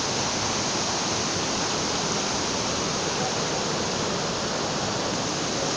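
Floodwater of the Paraíba river at Caraúbas, swollen after rain, rushes in a loud, continuous broadband roar with no pauses and no voices.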